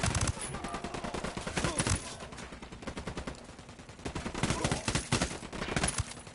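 Gunfire in Ghost Recon, shots fired through a suppressor, with repeated rapid bursts of sharp clattering shots in clusters and short pauses, close and fairly loud.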